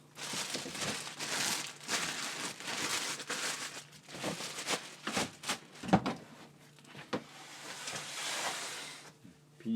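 Plastic film crinkles and rustles up close while fig cuttings are wrapped, in repeated loud bursts of crackling with short pauses and a few sharper snaps.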